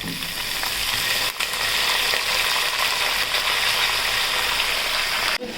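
Peanuts, cumin and curry leaves frying in hot oil for poha chiwda give a steady, close, dense sizzle that runs unbroken for the whole stretch, with a brief dip near the start and another near the end.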